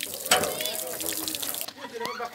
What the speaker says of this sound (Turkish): Görmüş olduğunuz gibi su çeşmesi akıyor.